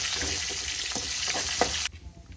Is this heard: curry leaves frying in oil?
yes